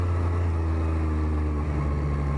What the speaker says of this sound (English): Definitely a really crisp sounding exhaust from a Kropovich